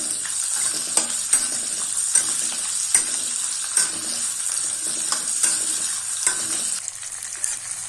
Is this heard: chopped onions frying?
yes